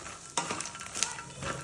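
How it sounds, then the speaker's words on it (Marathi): Makhana (fox nuts) roast in melted ghee in a pan while being stirred, giving a soft, faint sizzle broken by light scraping and clattering strokes close by. "त्याच्यामध्ये मी चांगले मखाणा खरपूस भाजून घेते."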